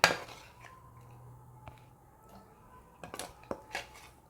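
A fried tomato mixture is scraped into a mixer jar, with a loud metallic clatter at the start, then quiet spoon scrapes and several clinks of utensil on pot and jar.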